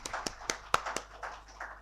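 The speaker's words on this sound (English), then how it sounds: "please welcome him with a huge round of applause." A small round of clapping at an export finance talk, a few sparse, faint hand claps spaced irregularly, quiet and close with no voices.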